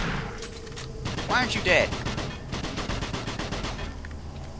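Shotgun blasts and gunfire in Doom 3 crack and thump close up in a dense series of rapid shots, with a voice speaking briefly over them.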